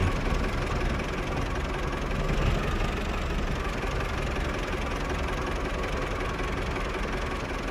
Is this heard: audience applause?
no